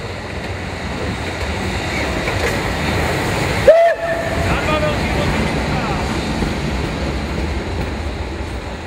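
A historic steam train, locomotive 498.022 Albatros, rumbles steadily with rolling clatter, and a short whistle sounds once midway; station announcements drift in the background.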